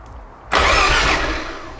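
A Mazda RX-7 FC rotary engine, left for years in storage, cranks. After half a second of near silence a loud, broad roar bursts in and holds steady, then eases off slightly toward the end.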